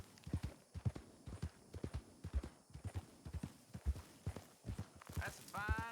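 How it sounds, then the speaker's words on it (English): Steady clip-clop of horse hooves on a dirt trail in a Red Dead Western roleplay game, a regular walking rhythm throughout, fairly close and clear, with a brief rising whinny-like tone near the end. "That's a fine hoss."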